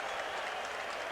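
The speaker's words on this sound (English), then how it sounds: "now the applause for the hitting star of the ball game, Greg Jeffries" Baseball stadium crowd applauding for hitter Greg Jeffries at a 1989 Cardinals vs Mets game, a steady distant wash of clapping heard alone.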